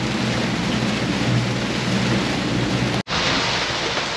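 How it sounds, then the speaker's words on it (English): A thunderstorm at sea seen from a sailing catamaran: heavy, constant rain and a low roar of thunder fill the clip, loud and close, with a momentary dropout near the end. "I turned around and I can hear the thunder, but I don't see it anymore."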